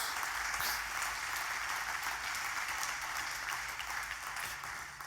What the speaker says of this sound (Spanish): Oh, dale ese aplauso a Dios.